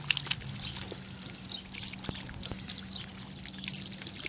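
Water trickles and pours steadily onto a pair of Red Wing Iron Ranger 8111 leather boots, dirty from camping, as they are rinsed for cleaning, a continuous close splashing dribble.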